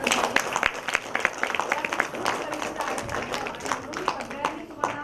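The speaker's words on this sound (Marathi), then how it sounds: "पुन्हा एकदा टाळ्या वाजवा." Wedding guests at a ceremony break into scattered, lively clapping that rises and falls in uneven bursts, with crowd murmur mixed in.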